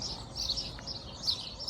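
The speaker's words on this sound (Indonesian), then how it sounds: "Kayak pohon-pohon ini ya, itu banyak banget burung, guys. Makanya itu berisik banget." Many wild birds chirp in the trees of a small English village, a dense continuous twittering chorus at moderate distance over steady outdoor background noise.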